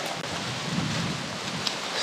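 Steady hiss of heavy rain in Florida with a low thunder rumble rolling through in the middle, distant and soft beneath the downpour.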